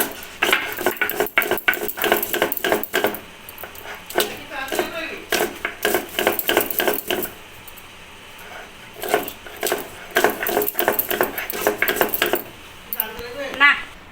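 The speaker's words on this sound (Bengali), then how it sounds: "কাঁচা পাকা লঙ্কাগুলোকে বেটে নেব, মিহি করে বাটতে হবে না" Green and ripe chillies coarsely ground by hand give close, repeated scraping and knocking strokes that come in rhythmic bursts with short pauses between them. No one speaks.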